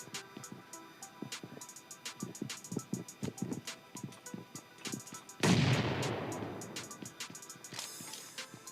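Gunfire in a shooter video game, with repeated sharp shots in an irregular rhythm throughout and one heavy, louder blast with a long rumbling tail near the end.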